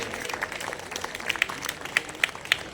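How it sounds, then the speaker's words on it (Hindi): Audience applause at a community honours ceremony marking a society's foundation day: scattered, fairly faint clapping with a few sharper individual claps standing out near the end, heard in a hall with no talk over it. "तालियां बज जाए एक बार"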